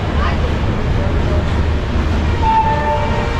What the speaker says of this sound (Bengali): আমাদের সাঁতরাগাছি স্টেশন থেকে আমাদের ট্রেন ছেড়ে দিল